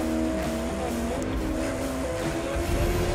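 A Koenigsegg Regera speeds through city streets in The Crew 2 racing game, its engine droning steadily with shifting tonal pitch, loud and continuous throughout.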